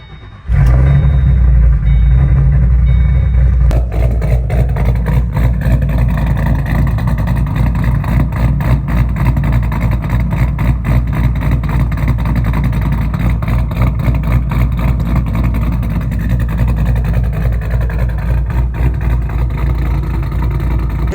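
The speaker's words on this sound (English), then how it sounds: "Show you guys what it sounds like. Again, we have the custom L&M cams with American Lawn Tube headers, Catless X pipe, and Flowmaster Outlaw mufflers." Ford Mustang with custom L&M cams, American Lawn Tube headers, a catless X pipe and Flowmaster Outlaw mufflers fires up and revs loud and close, its deep burbling exhaust holding a heavy, choppy rumble without a break.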